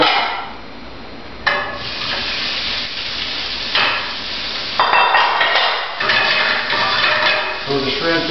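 Oil heating in a frying pan before shrimp go in for a pasta sauté, a steady hiss and sizzle that swells and fades in bursts, close and fairly loud.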